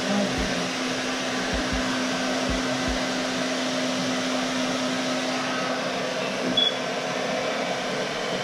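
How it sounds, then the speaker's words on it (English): A hair dryer runs steadily the whole time, a constant airy whir with a low hum, with a few faint clicks near the start. "what's my little blow dryer?"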